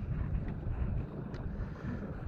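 Wind rushes across a sailboat anchored in a sheltered cove, a steady low roar buffeting the microphone without a break.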